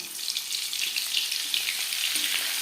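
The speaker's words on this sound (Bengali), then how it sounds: "এখানে আমি চার চামচ রিফাইন্ড অয়েল গরম করে নিয়েছি এবার দিয়ে দিলাম বাটার" Butter hits four spoons of hot refined oil in a pan while chicken chaap is being made, giving a steady, close, bright sizzle and crackle with no pauses.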